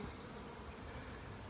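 A honeybee swarm gathered at a cedar tree makes a dense, continuous buzzing hum, faint and steady throughout the short moment, with no voices.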